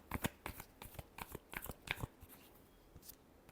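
Tarot cards being shuffled up close, a quick run of crisp riffling and slapping bursts with brief pauses between, alone and without talk.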